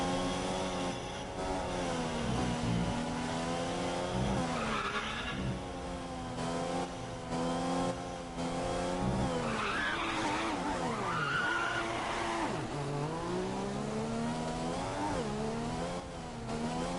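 An F1 2015 race car at the Bahrain Grand Prix skids and spins out in the video game, with a continuous engine drone, rising and falling revs and tire squeal, and speech faintly mixed in.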